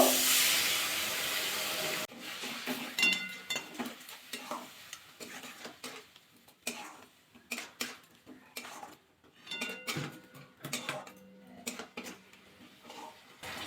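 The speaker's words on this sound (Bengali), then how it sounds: "সামান্য জল দিয়ে মশলাটা ভালোভাবে কষিয়ে নেবো" A spice paste with a splash of water, salt and a little sugar sautéed in a pan opens with a loud burst of steamy hiss, then settles into intermittent scraping stirs and softer sizzling bursts.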